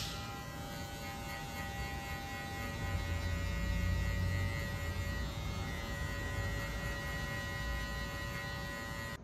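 Electric hair clipper fitted with a number 2 guard cutting wavy hair for an American-style cut, a steady close buzzing hum running throughout without pause, no talking.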